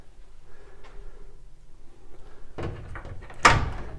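Doors of an antique painted pine wardrobe with French-style external hinges swing open, giving a quiet creak followed by a louder wooden knock and rattle near the end.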